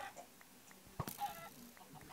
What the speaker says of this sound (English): The amount of chickens.